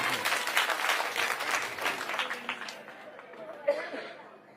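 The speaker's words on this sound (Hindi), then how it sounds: "एक बार जोरदार ताली अपने लिए बजाइए सब लोग।" Crowd at an Aam Aadmi Party political rally in the Delhi assembly election campaign applauds loudly and steadily, with scattered chatter and a few chuckles as the clapping thins toward the end.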